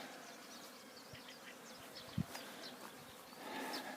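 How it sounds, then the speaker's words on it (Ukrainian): Bees buzz around a watering station at an apiary, a soft continuous hum of many insects with individual wingbeats passing close, faint and without speech. "Все, бджоли на волі, пасіка працює."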